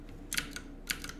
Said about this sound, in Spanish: un tecleo